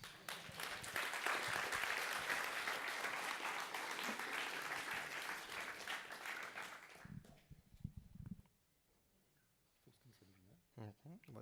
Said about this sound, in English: You can applaud, yeah.